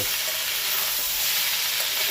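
Sliced potatoes and onion fry in hot oil, giving a loud, steady, close sizzle with a bright hiss that holds evenly throughout.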